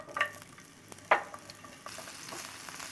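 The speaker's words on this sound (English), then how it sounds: "So you saute it for about 3 minutes, 4 minutes." Vegetables sauteing in a little vegetable oil in a warm non-stick pan, a soft steady sizzle with a couple of brief sharper clatters of stirring, fairly quiet and close, no talking.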